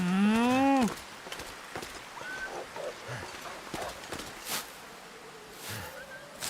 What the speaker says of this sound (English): I swear I heard the moose moo.